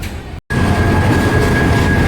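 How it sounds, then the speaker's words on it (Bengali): The Agnibina intercity express rumbles loudly and steadily into Joydebpur Junction station, with rolling wheel noise and a faint high whine, briefly cut out early on, then continuing close by. "জয়দেবপুর জংশন স্টেশনে প্রবেশ করছে ঢাকা থেকে ছেড়ে আসা তারাকান্দি অভিমুখী আন্তনগর অগ্নিবীণা এক্সপ্রেস"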